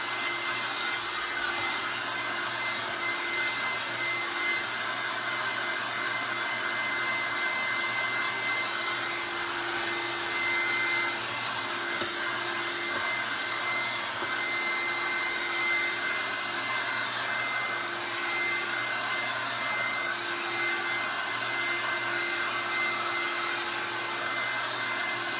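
A hair dryer blows steadily on a painted canvas, a constant close whooshing whir with a faint tonal hum that holds at an even level the whole time, with no voices.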